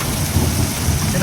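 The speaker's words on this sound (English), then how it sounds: "Hear the thunder roar." Deep rumbling roar of thunder during a destructive severe thunderstorm with heavy rain, a dense continuous wash of downpour layered over low booming, loud and close throughout.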